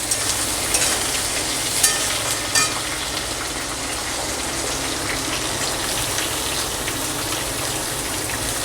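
Beans and carrots for fried rice fry in a hot pan with a loud, steady sizzle throughout, broken by a couple of brief clatters of stirring early on.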